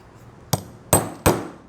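Three sharp hammer blows ring out in quick succession, tapping in the side pieces of a peaked cap during assembly, close and crisp against a quiet background.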